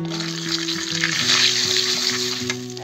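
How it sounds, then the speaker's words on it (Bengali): Hot oil sizzles in a pan as salt and turmeric are added, a steady close frying hiss with light stirring and clinks, no voices. "তেলটা গরম হয়ে গেছে, তেলের ভিতরে দিয়ে দেবো অল্প একটু লবণ আর একটু হলদি"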